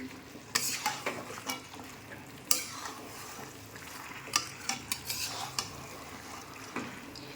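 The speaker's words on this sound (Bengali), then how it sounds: "এবার আমি মাংসটা দিয়ে মশলাটাকে ভালো মতন কষাবো অনেকক্ষণ ধরে ভালো মতন নাড়িয়ে চাড়িয়ে নিই" Meat stirred and fried in spice paste in a pan, with repeated scraping clinks of a spoon against metal over a steady low sizzle, close and moderately loud, no voices.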